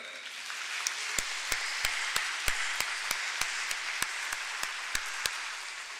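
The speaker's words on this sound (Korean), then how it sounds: "그럼 우리 기쁨으로 수고하는 분들 위해서 수고하셨던 분들 위해서 다시 한번 뜨겁게 박수할까요?" A congregation applauds during a Sunday morning church service: dense, sustained clapping with sharper individual claps popping out at a steady pace, and no voices.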